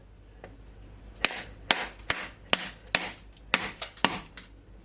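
Seven sharp, loud cracking blows of a hammer on a coconut struck one after another at an irregular pace, each a hard knock on something solid, with quiet between strikes.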